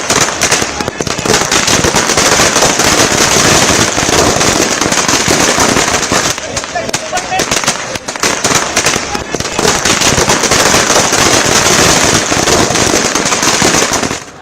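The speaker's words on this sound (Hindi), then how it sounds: "मुंबई में पटाखे, आतिशबाजी हो रही थी, पटाखे जलाए जा रहे थे।" Dense, continuous crackle of firecrackers and fireworks bursting in Mumbai streets, loud and near throughout, with rapid overlapping pops and a faint crowd murmur underneath.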